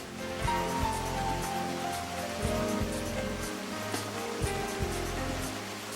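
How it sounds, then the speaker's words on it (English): Cascading water from a constructed waterfall at an arboretum in Fullerton, a steady broadband rush close by with no talk. "they are surrounded by the sound of cascading water"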